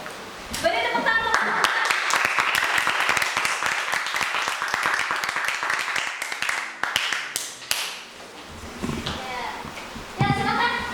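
Classroom students clap for a presenting group, a loose stretch of uneven hand claps with voices talking near the start and end.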